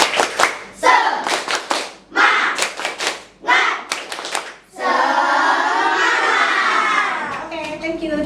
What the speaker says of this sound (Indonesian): Sekali lagi. Tepuk semangat.